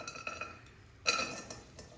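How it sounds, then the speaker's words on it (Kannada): Chopped figs clatter into a pan for frying with ghee, a few light metallic taps and scrapes of a spoon against the pan followed by a brighter clink, quiet and close with no talk. "ಅಂಜೂರ ಹಾಕೋತಾ ಇದ್ದೀನಿ."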